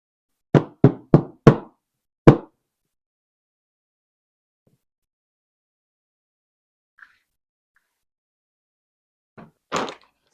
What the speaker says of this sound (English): And then just give them a light tap.